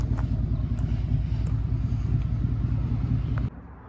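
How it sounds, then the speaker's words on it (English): A 1987 Ford Mustang Fox body drives along with a steady, loud low engine rumble and some wind buffeting, and the sound drops off abruptly near the end. "you guys just seen the clip of the Mustang going"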